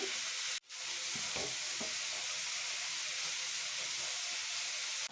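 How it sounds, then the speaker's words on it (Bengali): Squash and fish roe fry together in a pan, giving a continuous, dense hiss that holds steady and close for several seconds after a brief gap near the start, with no voices. "এইটা স্কোয়াশ আর মাছের ডিমের সাথে ফ্রাই বানাচ্ছি।"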